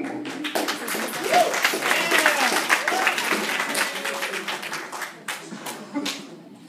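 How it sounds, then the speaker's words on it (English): An audience at a Lanier High School poetry reading breaks into warm applause for a student poet, a dense sustained clapping from a full room that tapers off at the end. "Give a warm round of applause for Mark, ladies and gentlemen."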